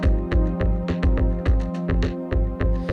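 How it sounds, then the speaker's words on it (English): A Spectralis synthesizer plays a driving programmed drum pattern with punchy kicks on a steady beat and crisp hi-hat ticks layered above, over a sustained tonal drone. "Third one brings in the hi-hat,"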